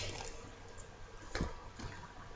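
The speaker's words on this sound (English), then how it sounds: "Gonna put the top on, put my finger over the top, and give it a nice shake." A closed bottle of homemade all-natural dish liquid, soapy and slightly oily, is shaken by hand, giving close, muffled sloshing and squishing in a few quick bursts with no talking.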